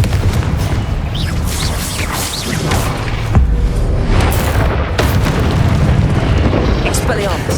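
Confringo fire spell explosions in Hogwarts Legacy on PS5, loud booming blasts and crashes layered with magical whooshes and combat noise, a dense, continuous barrage close up.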